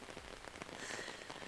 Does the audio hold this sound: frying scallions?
no